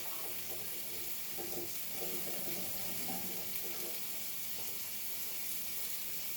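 Water running into a kitchen sink while cleaning up during cooking of a chicken tagine, a steady close rush of water with faint clatter throughout.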